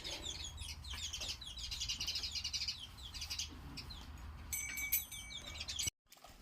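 Sparrows chirp in a dense, continuous chatter of short high tweets, fairly close and steady in a muddy farmyard where buffaloes are kept after rain, with no talk.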